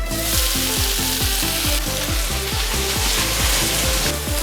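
Char siu pork dropped into hot fat in a pan to crisp, a loud, dense, close-up sizzle and crackle, with a steady rhythmic pattern of repeated pulses running underneath throughout.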